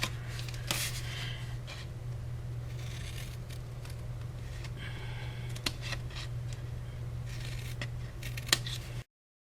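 Scissors snip through a paper panel for a folded Stampin' Up gift box, giving a series of short, crisp cuts at irregular intervals over a steady low hum.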